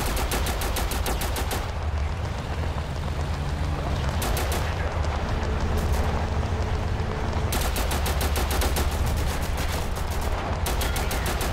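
Rapid automatic gunfire in the shooter game Total Conflict: Resistance, dense loud bursts running almost without pause, with brief lulls between volleys.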